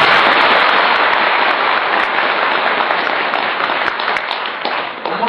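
A large crowd at an Islamic religious gathering claps hard together, a loud continuous wash of applause that holds steady and then eases slightly near the end.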